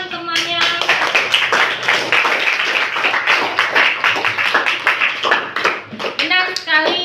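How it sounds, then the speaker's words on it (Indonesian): Classmates in a group class session clap for a peer, a short burst of close, rhythmic hand claps overlapping with voices talking. "kasih tepuk tangan temannya"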